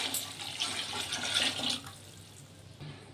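Water pours from a bowl into a cooking pot for bagara rice, a short splashing gush up close that tapers off into quiet after about two seconds.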